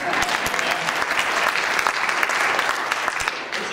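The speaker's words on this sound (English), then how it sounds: "give yourself a hand." An indoor audience at a Holocaust education evening breaks into loud, sustained applause, dense clapping filling the room with a little speech mixed in.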